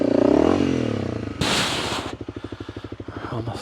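A dirt bike engine idles in a steady, close putter while the bike is walked up a steep trail climb out of Turkey Creek, with a burst of scraping and clatter midway as it lurches over rough ground.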